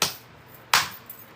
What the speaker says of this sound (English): You guys ever notice that he uses his palms so he can clap really loud?